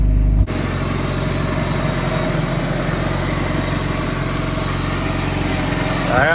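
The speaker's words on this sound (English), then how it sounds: "seems to be running good." A Honda engine converted to OBD1 runs with its intake off. A brief low rumble gives way to a steady, close idle hum with a faint rhythmic pulse, and a slight shift comes near the end. Nobody talks.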